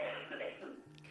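A caller on a phone line gives a brief, muffled cough with a throat-clearing quality, thin and filtered as if heard through the phone.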